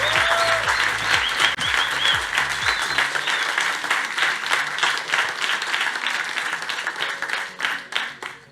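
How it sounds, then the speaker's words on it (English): Audience applause at the live MONIN Cup grand finale bartending competition, a sustained crowd of clapping hands that tapers toward the end, with faint voices and a brief tone underneath. "A round of applause would be the perfect garnish for this moment."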